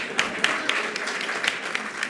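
Audience applause at a French eloquence contest, a moderately distant, thinning patter of clapping hands with a few sharper individual claps, fading toward the end.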